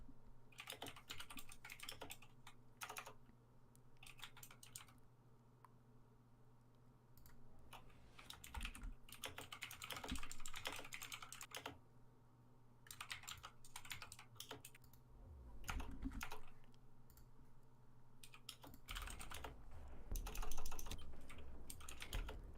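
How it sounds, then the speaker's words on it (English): Heavy, clattering keystrokes on a computer keyboard come in dense bursts and short pauses, loud and close, during an online Rainbow Six Siege esports tournament broadcast. "your keyboard's very heavy"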